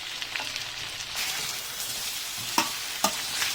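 Beef stir fry with soy sauce is stirred in a hot pan, a steady close sizzle under a few sharp scrapes and clinks of a utensil against the metal.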